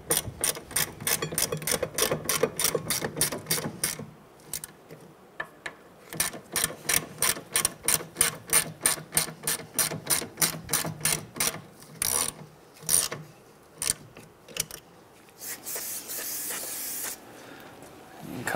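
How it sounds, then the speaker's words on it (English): A ratchet snugging up 14 mm brake caliper bolts, giving fast runs of sharp clicks in bursts separated by short pauses, close and crisp, with a hiss near the end. "We're going to snug these up, and then we'll come back and torque them down."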